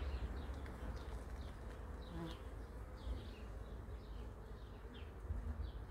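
Honeybees buzz around an opened Warré hive, a faint, continuous swarm hum with individual bees whirring past at close range.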